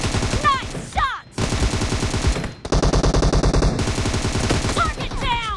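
Rapid automatic gunfire in PUBG Mobile, loud, close bursts of rattling shots with brief pauses between strings, game effects chirping over the top.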